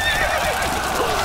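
A horse neighs in the Stronghold Crusader video game, a loud whinny with wavering pitch heard close and alone amid faint clip-clop, lasting about a second.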